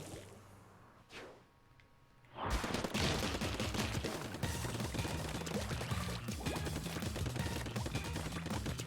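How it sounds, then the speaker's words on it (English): Ink weapons fire in a Splatoon Turf War match, starting as a dense, continuous stream of rapid splattering shots after a brief quieter lead-in and holding loud and busy throughout. "ZR to shoot, L to go into the ink."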